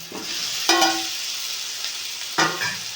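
Potatoes tipped into hot oil for a Bengali fish curry (machher jhol), sizzling steadily with two sharper bursts of frying and stirring, close and fairly loud, no voices.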